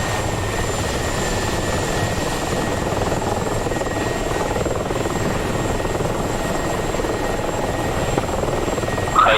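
Aircraft engine droning steadily while taxiing in the DCS flight simulator, a loud continuous turbine whine and rumble with no pauses or talk over it.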